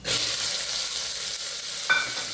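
Sprouted pulses tipped into hot oil with cumin and asafoetida, setting off a loud, steady sizzle that fills the whole span, with a brief utensil scrape near the end.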